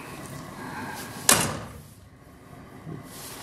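A single sharp thump of a fiberglass car door being handled, close and fairly loud, followed by a short rattle and quiet room noise.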